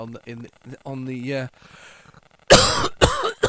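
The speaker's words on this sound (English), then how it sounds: "Sorry for coughing right down the microphone there." A person coughs close into a microphone, two or three sharp, loud coughs bursting out after a stretch of quieter throat sounds and murmured speech.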